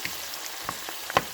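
Onions sizzle in a pot while being stirred, a steady close frying hiss with a few soft scrapes and small pops.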